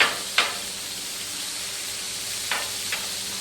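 Food browning on an outdoor grill at a home garage cookout, giving a steady broadband sizzle and hiss with a few sharp crackles and pops scattered through, fairly close and continuous without any talking.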